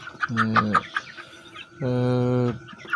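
Young Sasso meat chickens raised on a farm cluck and squawk up close, a rapid burst of calls followed by a longer drawn-out cry.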